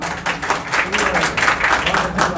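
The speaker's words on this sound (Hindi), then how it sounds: "एक बार जरा ताली बजा के मुझे एहसास दिलाएं कि आप लोग सुनने के मूड में हैं।" An audience at a live ghazal concert bursts into sustained, dense clapping that stays even and full throughout.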